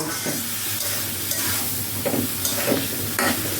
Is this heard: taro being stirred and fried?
yes